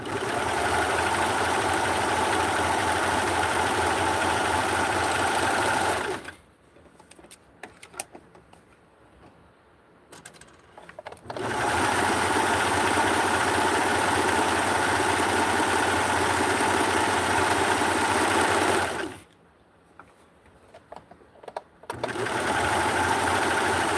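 A Barbie Vogue 7291 sewing machine runs in two long, steady bursts, each followed by a few seconds of near silence.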